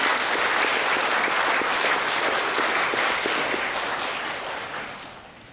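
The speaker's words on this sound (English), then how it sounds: "that certainly deserves a hearty applause from all of us this morning" Hearty applause from an audience at an ASEAN+3 higher-education quality assurance forum, a dense, steady wash of many hands clapping that holds loud for several seconds before gradually thinning and fading, with no talk over it.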